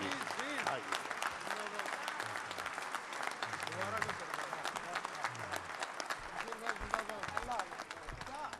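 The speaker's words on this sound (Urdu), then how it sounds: "اپنی نشستوں سے کھڑے ہو کر تالیوں کی گونج میں انہیں خوش آمدید کہیے" A mushaira audience in an Urdu poetry gathering gives a standing ovation to welcome poet Waseem Barelvi, producing dense, steady crowd applause that fills the hall, with some voices mixed in.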